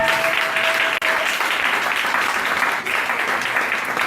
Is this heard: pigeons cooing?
no